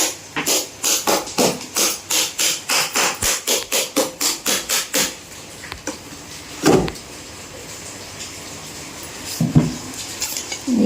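Knife rapping repeatedly against a board or tray while cutting homemade Mysore pak for Deepavali: a fast, even series of sharp knocks, then a pause and a few scattered louder clacks.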